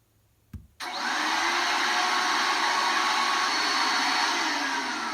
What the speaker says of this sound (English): it was the vacuum cleaner again